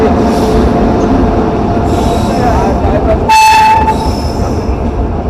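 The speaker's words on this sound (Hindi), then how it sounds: "तो गाइस हमारे सामने आ चुकी है सिलचर न्यू दिल्ली पूर्वोत्तर संपर्क क्रांति।" The Silchar–New Delhi Purvottar Sampark Kranti express rolls into a station with a loud, steady rumble of wagons and wheels, squeals rising over it, and a sharp horn blast near the middle, heard close and overpowering.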